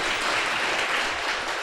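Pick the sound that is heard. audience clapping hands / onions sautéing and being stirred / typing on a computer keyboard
audience clapping hands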